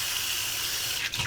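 Potatoes in a medium shallow dish being rinsed and drained under running water, a steady broad hiss of flowing water with a brief splashy change near the end.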